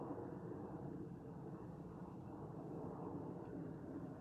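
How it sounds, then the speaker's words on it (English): A drone flies directly overhead outdoors, giving a steady, faint, droning hum that holds evenly throughout with no other sounds. "And also a drone flying directly over top of me."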